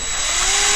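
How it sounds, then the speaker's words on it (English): Power drill boring through a plastic snowmobile front bumper and stock skid on an Arctic Cat, a loud steady high whine, close and continuous, with no talk over it. "then you're going to drill all the way through the stock"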